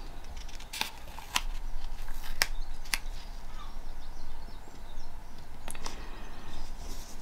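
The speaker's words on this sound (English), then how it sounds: "You'll hear a lot of birds outside." Birds outside an open window give a few sharp, distant chirps and calls over a steady faint room hiss, sparse and quiet rather than a full chorus.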